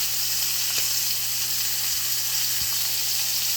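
Ribeye steaks searing in a hot pan on the stove: a steady, even sizzle and hiss with a few faint clinks and taps, close and moderately quiet, no voices.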